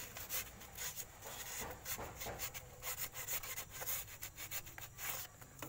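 A brake piston from a Suzuki Carry Futura is scrubbed inside to clear black residue, giving a close, quiet, continuous rasping rub with quick repeated back-and-forth strokes.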